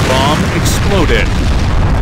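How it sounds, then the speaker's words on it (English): A bomb goes off in the shooter game Point Blank as a loud, sustained rumbling boom, with voices speaking over the blast. "Bomb exploded!"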